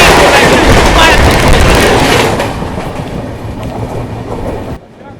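Purba Express passenger train passing at high speed, around 120 km/h, a loud close roar with rapid clickety-clack of wheels and wagons rushing by, fading somewhat before cutting off.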